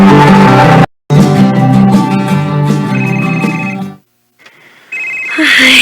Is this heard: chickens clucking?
no